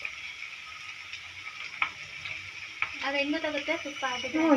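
Cream simmers on a low flame as it turns into homemade ghee, giving a soft, steady sizzle with a few faint ticks. A voice speaks over it in the second half, growing louder toward the end.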